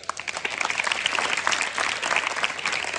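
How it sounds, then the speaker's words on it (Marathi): An audience claps for Pawar Mama, a dense, close burst of applause from many hands that swells and holds steady throughout. "तर सगळ्यांनी पवार मामाचा आधी टाळ्या वाजून कौतुक करा."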